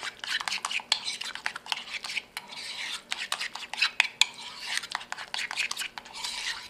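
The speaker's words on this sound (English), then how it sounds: "And then you just stir it up." Homemade salsa is stirred with a utensil in a bowl, giving repeated scraping, clinking strokes in an uneven rhythm, close and fairly loud.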